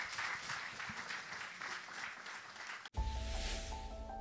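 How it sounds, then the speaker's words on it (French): Studio audience applause, a steady, moderately loud patter of clapping lasting about three seconds before it cuts off abruptly into unrelated music. "avec des applaudissements du public qui est avec nous"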